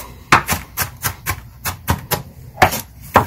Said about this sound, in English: Really want to chop this up well.